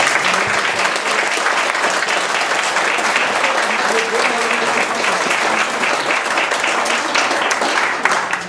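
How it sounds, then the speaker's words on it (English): Sustained, loud round of applause from a ceilidh gathering in Nairn for the fundraising committee, dense steady clapping throughout with a few voices mixed in. "if we could just give the committee a big round of applause"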